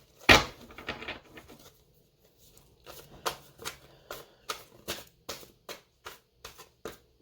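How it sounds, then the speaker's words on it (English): Tarot cards are riffled and then tapped or shuffled in a steady run of about a dozen soft, regular slaps, close and clear, with no talking. "I'll shuffle these a few more times, and that might be it for this deck."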